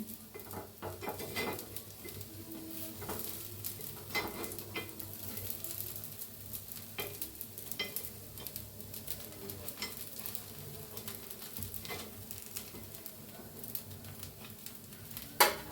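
Appe, crisp rice-lentil dumplings studded with vegetables, fry in an appe pan with a steady close sizzle while a spoon scrapes and clinks against the metal cavities to turn them.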